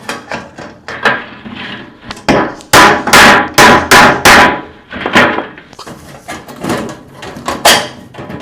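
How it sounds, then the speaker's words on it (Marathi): Sharp metal cutting strikes on the side of an empty metal oil tin, a rapid series of loud, close, irregular clanking bursts with brief pauses between them. "तर चला इकडची बाजू आपण कापायला सुरुवात करू"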